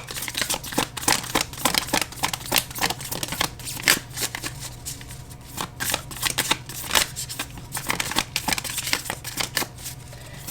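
Oracle cards shuffled continuously by hand, a rapid close riffle of papery flicks and slaps that keeps going without pause and without any talking.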